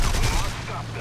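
Machine gun fire from a BF-109 fighter in the aerial combat game War Thunder, a dense burst of rapid shots through the first half that tapers off, heard with engine roar underneath.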